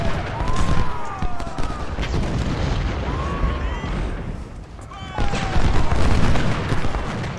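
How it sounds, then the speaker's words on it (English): Artillery fire on the right flank in a battle game, a continuous stretch of booming shots and distant gunfire with whistling shells overhead, surging louder near the end. "Ordering the artillery to continue firing up onto the right flank."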